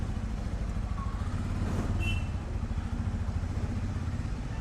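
A serviced motorcycle sets off on the road, its engine running steadily and fairly loud throughout, with a low rumbling drone and some clatter, no talk over it.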